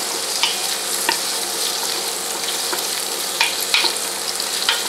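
Onions and garlic sizzle steadily in a hot pan for homemade ratatouille, a bright continuous crackle broken by several scraping stirs of a utensil, close by with no talking.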